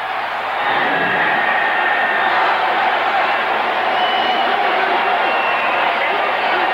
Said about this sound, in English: Listen to the people cheering